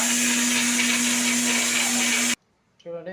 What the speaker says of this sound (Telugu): తెల్లవాయి కొబ్బరి ఈ మిక్సీ కొట్టుకుందాం